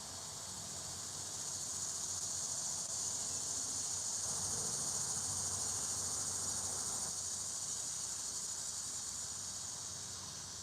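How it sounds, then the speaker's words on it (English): Steady, loud buzzing drone of cicadas, a continuous high hiss that swells slightly in the middle, with no talking. "The cicadas, can you hear them?"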